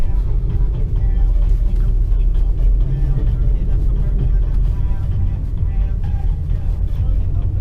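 A BMW car struggles in a snowy rut, its engine rumbling low and steady while the wheels spin and slip, a loud, continuous drone without pauses.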